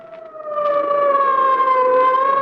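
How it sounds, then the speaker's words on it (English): An ambulance siren in a 1940 radio drama wails loudly and steadily, a sustained rising-and-falling tone that swells after the first half-second and holds close and prominent, with no voices over it. "the wild shriek of a siren as an ambulance catapults through the city's darkened streets"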